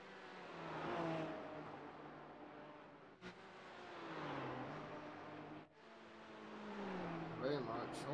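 A Porsche race car in a racing video game at the Nürburgring revs and pulls through gears, its engine pitch rising and dropping in repeated sweeps with brief shift gaps, steady and close while a person talks over it.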